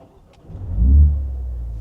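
A Mini Countryman John Cooper Works engine starts close by. A quiet moment gives way to a loud rising rumble as it fires, which then settles into a steady low idle.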